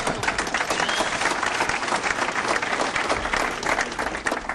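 An audience at a political speech in New Hampshire claps in sustained, dense applause, a full steady wash of hands with a faint crowd murmur underneath.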